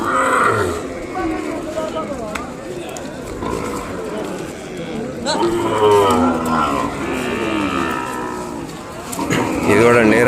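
Ongole cattle at a livestock market in Kodada low and moo loudly and up close, with long drawn-out calls rising over steady crowd noise and background voices.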